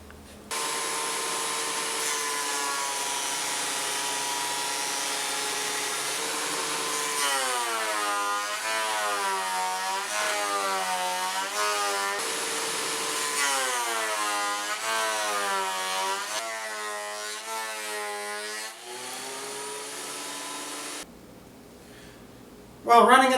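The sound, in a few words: thickness planer running wood coasters through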